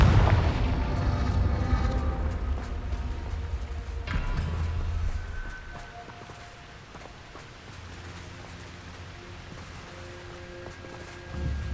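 A Confringo blasting spell explodes in the video game Hogwarts Legacy, a heavy booming burst followed by rumbling impacts and a softer decaying tail, with a second thud near the end.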